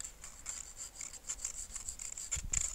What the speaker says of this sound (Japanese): 切り口が毛羽立っているところにヤスリをかけます